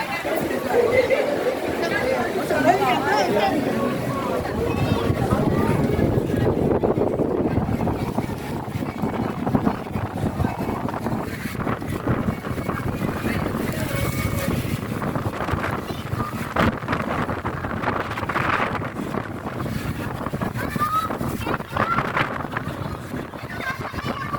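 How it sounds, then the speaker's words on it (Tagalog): Strong wind at The Peak, Hong Kong, in rain buffets the microphone with a constant rushing roar while several people talk and exclaim over it. "Grabe, lakas ng hangin."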